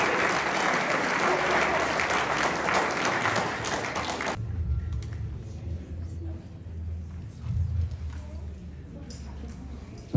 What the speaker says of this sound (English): I want you to celebrate with them by giving them one big round of applause.